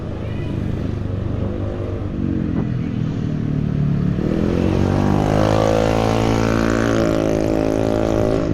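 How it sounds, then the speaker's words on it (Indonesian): A loud motorcycle with a noisy aftermarket exhaust rises in pitch as it passes close by on a village road, its engine note swelling and holding strong to the end. "Ini anak muda sekarang ini suka yang knalpot begitu, bising ya."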